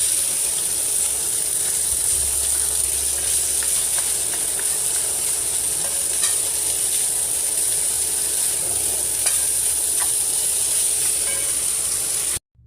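Garlic and rice being stir-fried in a pan for sinangag garlic fried rice, a steady, close hiss of sizzling with faint scraping running evenly throughout, then cutting off at the end.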